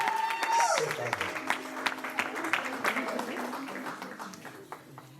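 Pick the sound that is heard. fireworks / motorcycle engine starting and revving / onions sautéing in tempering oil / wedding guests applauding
wedding guests applauding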